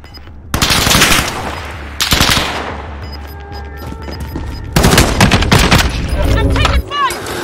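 Bursts of automatic gunfire and explosive blasts in Call of Duty: Modern Warfare Warzone, loud sustained machine-gun volleys in two main waves with game voice lines mixed in.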